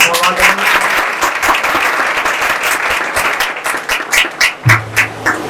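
Loud applause from a gathering at a devotional satsang, many people clapping in a thick continuous burst that thins into separate claps near the end, with a brief low hum.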